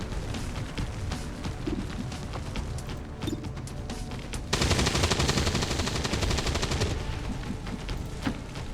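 Gunfire in XCOM 2 with Warhammer 40K Space Marines fighting orcs. Rapid, rattling shots: scattered bursts first, then a dense, loud machine-gun stream for several seconds, followed by a few more sharp shots.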